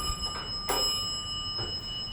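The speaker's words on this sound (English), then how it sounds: "And we can listen to the bell." An old Otis elevator's bell dings, one clear chime followed by a fainter second ring, ringing out over a steady low hum.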